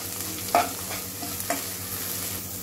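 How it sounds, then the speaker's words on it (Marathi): Green chillies and coriander sauté in a hot pan, a steady sizzle broken by two sharp scrapes of a spoon against the metal. "आणि चांगलं आपण परतून घेऊया"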